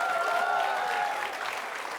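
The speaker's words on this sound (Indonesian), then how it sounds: "Kita kasih tepuk tangan dulu dong." Applause from an audience for a group at a comedy show, with a steady wash of many hands clapping that fades a little toward the end.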